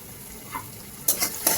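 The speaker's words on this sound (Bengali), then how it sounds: "সেই গাজরগুলো একইভাবে সামান্য লবণ দিয়ে ভেজে নেব" Carrots fry lightly with a little salt in a pan, giving a soft low sizzle with a few sharper stirring scrapes toward the end.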